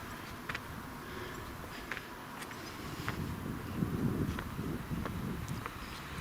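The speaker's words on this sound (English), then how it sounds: "Quite a pleasant wind there." A steady wind moves through an autumn garden in the Castlereagh Hills near Belfast, a soft broadband rush that swells briefly near the middle, with a few faint taps and rustles and no one talking.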